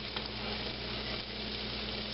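Diced onion and celery sizzling in a pot: a soft, steady frying hiss with faint crackles, constant and fairly quiet, with a low hum underneath.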